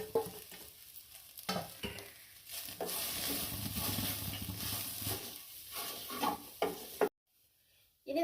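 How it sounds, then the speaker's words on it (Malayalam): Chopped leaves for a Kerala-style leaf stir-fry are dropped into a hot pan with spiced paste and stirred, giving a steady close sizzle with scraping and stirring noises before a sudden drop to silence. "ഇനി നമുക്ക് അരിഞ്ഞു വെച്ച ഇല അങ്ങോട്ട് ഇട്ട് കൊടുക്കാം."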